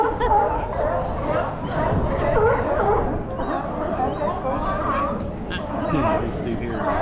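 Sea lions bark from floating pontoon piers at a San Francisco waterfront, repeated yelping and honking barks layered into a busy chorus under nearby people's chatter.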